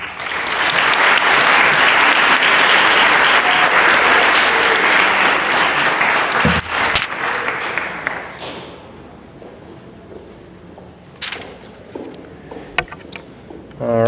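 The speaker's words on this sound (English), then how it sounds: "Round of applause" Loud applause fills a middle school gym or hall at an 8th grade promotion ceremony, holding dense and steady for about seven seconds before thinning into scattered claps and quiet room noise, with a few light taps near the end.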